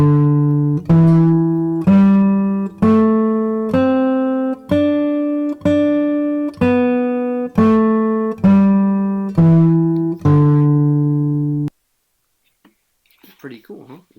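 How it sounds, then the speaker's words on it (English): A guitar plays a Japanese scale, one pattern ascending and a different one descending, as a dozen evenly spaced plucked notes that ring close and clear, followed by silence and a brief faint sound at the end. "One thing that happens commonly in Japanese music is they'll use one scale going up and one scale going down"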